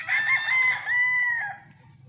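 A gamefowl broodstag rooster crows once, close and loud, in a single long rising and falling call that fades out near the end.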